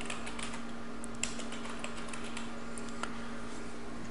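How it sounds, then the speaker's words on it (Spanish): Keys clicking steadily on a computer keyboard in a quiet room, a continuous run of soft, close taps with a faint steady hum underneath and a few sharper strokes standing out. "Damos un clic y escribimos."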